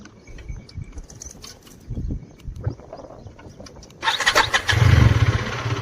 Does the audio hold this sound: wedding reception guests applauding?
no